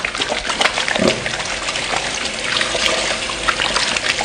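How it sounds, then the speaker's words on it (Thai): Tap water gushes and splashes continuously as white fingerroot (krachai) is scrubbed by hand under the stream, a steady close wash with faint rubbing and no talk. "ผมก็จะเปิดน้ำครับ แล้วผมก็ใช้มือถูอย่างเงี้ยครับ"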